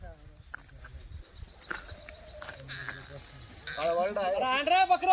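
Goats on a goat farm bleat in wavering calls that grow louder toward the end, mixed with people talking nearby.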